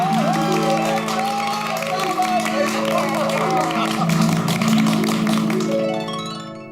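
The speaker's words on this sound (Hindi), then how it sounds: "सोसाइटी के एक मैं सेक्रेटरी श्री आदवरम दुकाराम भिड़े के लिए जोरदार तालियां बजाइए" An audience at a society gathering breaks into applause, dense rapid clapping mixed with cheers and voices that holds strong and then fades out at the end.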